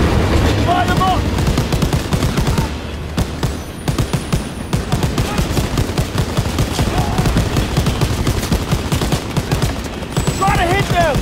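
Heavy gunfire in Call of Duty WWII during a Special Operations Executive mission: sustained rapid bursts of machine-gun shots over a rumbling vehicle, loud and close, with shouted voices briefly mixed in.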